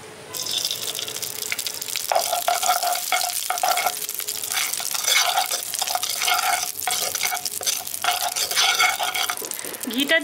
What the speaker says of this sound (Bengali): এবার কড়াইয়ের মধ্যে আমি দিয়ে দিচ্ছি 1 চামচ ঘি